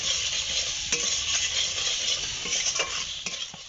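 Mango pieces frying in a pan with chili powder and turmeric powder, a steady sizzle with a few sharp scrapes and clinks of a spatula stirring against the metal.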